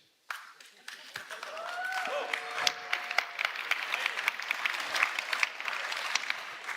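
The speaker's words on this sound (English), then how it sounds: "The people that just clapped were my own people" An audience claps at the global debut of the new Skoda Superb in Dolní Břecany, just south of Prague. Applause starts abruptly and continues as a dense, sustained patter of many hands, with a few voices rising faintly through it.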